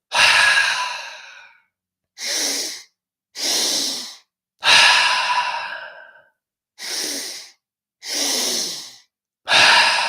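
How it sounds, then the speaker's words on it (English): Deep breathwork exercise for mountain athletes: seven loud, close breaths, alternating long drawn inhales and sharp, airy exhales, each separated by a short silence. No talking. "Inhale belly. Inhale chest. Exhale mouth."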